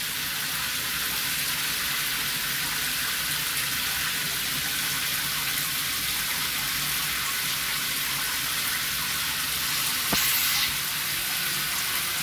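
Effervescent bath bomb fizzing under running tap water in a bathtub, a steady broadband hiss of bubbling and pouring water throughout, with a brief louder splash near the end.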